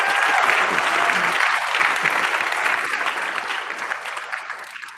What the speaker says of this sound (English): let's welcome Peter and Sandra with a warm round of applause as well